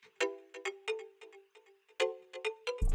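A bright, bell-like synth melody of short plucked notes repeats twice, played first dry and then with a chorus effect. Quiet and clean, ending in a low thump, with no speech.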